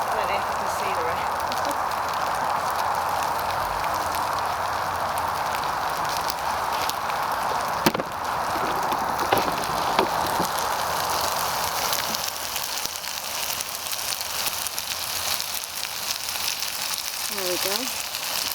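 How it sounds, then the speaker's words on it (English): Steady rain patters down at night on a campsite tent, a continuous close hiss with a few soft knocks and faint voice-like traces near the end. "it's raining"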